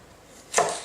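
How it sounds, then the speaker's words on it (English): A kitchen knife bites through food during an edge geometry test, a single crisp chopping cut about halfway in that lingers briefly, heard close and alone. "the knife is doing well enough that it's actually cutting"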